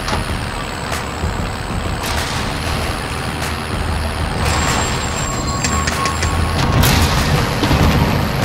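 A vehicle driven in the Call of Duty Warzone video game: a loud, steady engine roar running throughout, with brief whooshes and higher whining tones layered on top, no talking.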